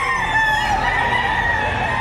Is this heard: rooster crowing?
yes